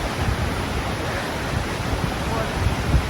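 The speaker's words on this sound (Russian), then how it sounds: "посмотрите, какая горная река здесь течет" A mountain river in Yosemite, California rushes past in a steady, broad roar of flowing water, close and loud, with some wind buffeting the microphone.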